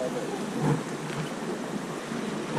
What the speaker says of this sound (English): Is it raining? Yep.